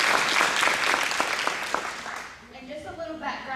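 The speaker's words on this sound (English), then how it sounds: "give yourselves a round of applause for that" Church congregation applauding after a testimony, a burst of clapping that thins out within a couple of seconds as a voice and other sounds take over.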